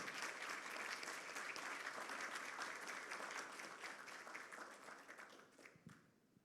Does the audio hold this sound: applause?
yes